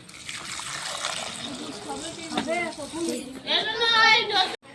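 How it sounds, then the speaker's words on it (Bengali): Water pours and trickles into a cooking pot for a village-style goat leg curry, a steady liquid splash that swells louder toward the end, with a voice speaking over it. "জল দিয়ে দিচ্ছি।"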